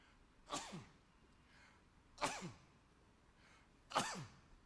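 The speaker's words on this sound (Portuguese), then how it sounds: "Desculpa aí, só um espirrozinho." A person sneezes three times, each sneeze a sharp burst spaced about two seconds apart, close and alone with no talk between.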